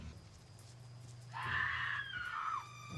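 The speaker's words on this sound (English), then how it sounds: "I think that's about the third or fourth time they've used that stock scream this series." A stock scream sound effect from a TV show, a single shrill scream lasting about a second, heard faintly over a low hum with no talk.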